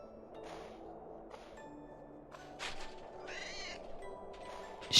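Cat meowing in an indie video game, a few short, tonal meows over a low, busy game background, with a louder burst at the very end.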